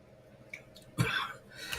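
A single sharp cough bursts out close to the microphone during a Premier League football watchalong of Leicester City against Liverpool, with faint room noise around it.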